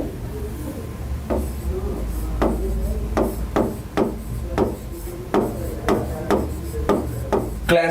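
A board is erased by hand, repeated scrubbing strokes landing in an uneven rhythm of sharp rubbing thumps, close and fairly loud.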